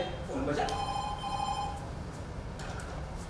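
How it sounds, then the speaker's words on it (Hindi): A telephone bell rings in a short burst of repeated tones, fairly close and clear, then stops as background noise continues. "अरे फोन बजा।"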